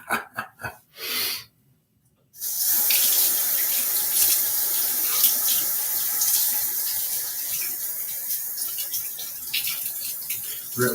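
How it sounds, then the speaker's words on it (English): Tap water runs steadily into a sink while a shaving soap tub's threading is rinsed, starting after a few brief knocks and a short silence, then continuing loud and close. "Rinsing out the side threading on the tub here."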